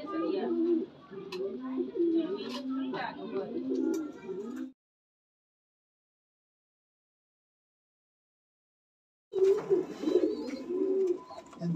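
Jacobin and Motichur pigeons coo softly and repeatedly nearby while someone talks; the sound drops to silence for several seconds midway before the cooing and voice resume.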